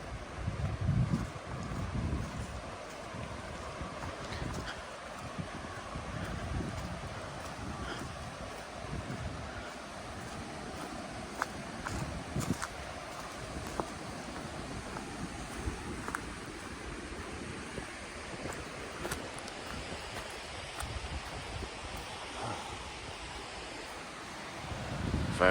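Steady rush of water pouring over a reservoir spillway at a metro park, a continuous broadband roar with wind buffeting the microphone throughout and no voices.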